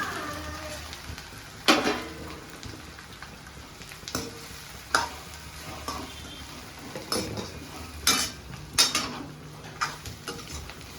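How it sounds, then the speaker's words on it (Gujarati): Mustard seeds and chillies sizzle in hot oil for a tempering, a steady frying hiss broken by spoon-on-pan clinks and stirring scrapes, with no talking. "વઘાર શરૂ થઈ ગયો છે. જો રાઈ નાખી દીધી છે."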